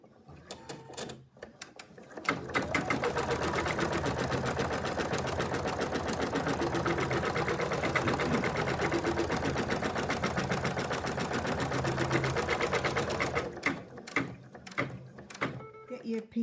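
An embroidery machine stitches the placement line for an applique on an in-the-hoop phone case, a rapid, steady mechanical whirring that runs for about eleven seconds, framed by quieter clicks and handling sounds before and after.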